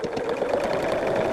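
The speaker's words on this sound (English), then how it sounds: "And we are just going to sew this all the way down until we meet up where we started." A sewing machine stitches quilt binding down at a 3/8 inch seam, running steadily with a fast, even mechanical chatter, close and loud, with no talking.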